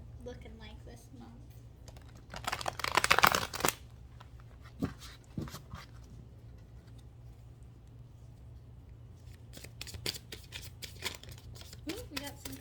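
Tarot cards being shuffled by hand, a riffling burst in the middle followed by lighter scattered card flicks and taps, fairly close and quiet, with brief talking near the end.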